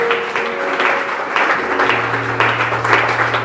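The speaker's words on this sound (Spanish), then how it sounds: "¿Cuánto le brindan un fuerte aplauso al Señor?" Church congregation at an evangelical service breaks into loud, sustained applause, dense clapping swelling in waves over a steady low hum, close and full for several seconds.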